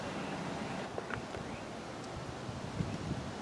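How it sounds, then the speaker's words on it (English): Strong wind buffets the microphone outdoors in a potato garden, a constant low rumble with rustling and a few gusty bumps, and no other sound. "I apologize in advance for the wind, but it is very windy out"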